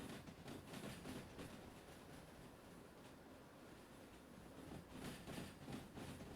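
A train rolls along the tracks in the railway game Derail Valley, a faint, steady rumble with soft rhythmic clacks throughout.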